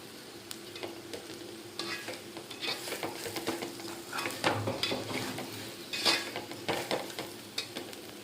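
Potato pieces fry in a pan with ginger-garlic paste, coriander and cumin powder, chilli, salt, turmeric and green chillies, giving a quiet sizzle broken by close, irregular scrapes and clinks of a spoon stirring.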